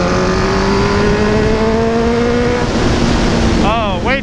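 A motorcycle engine revving hard and close while ridden on a track, a loud sustained drone rising steadily in pitch, then quick throttle blips near the end as the revs dip and climb again.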